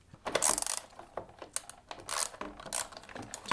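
Small screws being tightened on a license plate frame mounted on a Honda Gold Wing, with a run of close, quiet metallic clicks and ratcheting ticks in short bursts, no talking.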